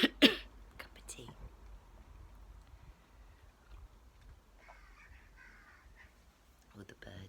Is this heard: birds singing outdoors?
yes